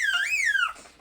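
A child lets out a single high, squealing cry that rises and falls within about a second, close and alone.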